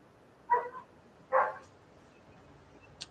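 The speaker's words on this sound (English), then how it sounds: "Oh, my dogs are barking." A dog gives two short, distinct barks about a second apart, fairly close, followed by quiet and a faint high click at the end.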